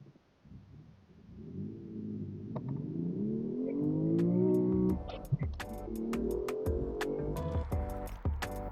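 A BMW M2 driven on a public road with traction control partly on, its engine revving and climbing through the gears in a loud, rising drone. Sharp shift cracks and pops follow near the end.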